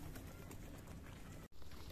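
Pigeons coo softly inside a coop, a low, quiet murmur that continues almost without a break. No one talks over it.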